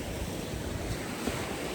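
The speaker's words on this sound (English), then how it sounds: "It's like Pacific Ocean, just long waves." Long Pacific Ocean waves wash onto a beach as a steady, broad roar of surf, mixed with wind noise on the microphone and no speech.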